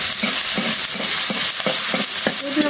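Onions fry and sizzle in a wok while a utensil stirs them in regular scraping strokes, about two per second, over a constant loud hiss, close up and with no talking.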